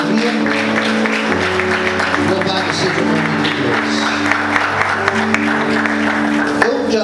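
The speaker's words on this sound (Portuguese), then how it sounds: "Vamos aplaudir Jesus bem forte." A church congregation applauds over a steady wash of crowd noise, with clapping blending into sustained musical tones, and a voice speaks over the sound partway through.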